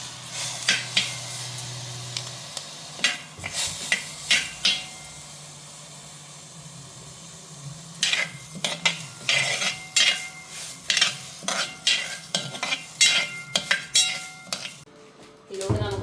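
Drained rice roasts in a hot uruli, a traditional heavy pan, with a low sizzle under repeated scraping and clattering strokes of a spatula that grow busier and more rhythmic toward the end.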